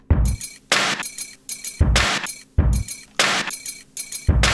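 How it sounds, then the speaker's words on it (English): A drum beat built from recorded household noises plays as a regular pattern of sharp, loud hits, alternating low thumps with bright crashing, glassy clatters in a steady rhythm. "let's listen to the drum beat that we got out of the household noises"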